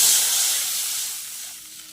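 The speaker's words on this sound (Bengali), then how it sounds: "কড়াইতে অল্প জল দেব।" Loud, bright hiss of a small splash of water hitting a hot wok (kadai) while cooking a cauliflower curry, starting strong and steadily fading over two seconds.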